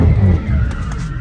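A widebody Dodge Hellcat Charger in sport mode skids to a stop, tires scrubbing loudly under engine rumble in one short, close burst.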